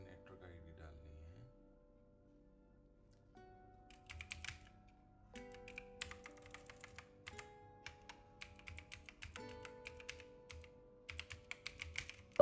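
Keys tapped on a computer keyboard while entering a network ID into Tally Prime accounting software, a steady run of light clicks and presses building through the second half, with faint background tones underneath.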